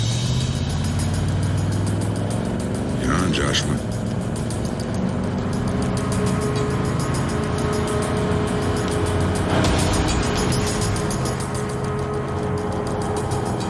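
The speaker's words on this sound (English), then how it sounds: "There's a car coming." A car approaches and passes close by, its engine swelling to a loud whoosh and then fading away over steady road noise, with a few brief spoken words in the middle.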